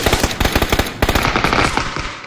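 Groza rifle fire in the video game PUBG, rapid loud bursts of automatic gunshots in quick, uneven clusters, close and alone without talk.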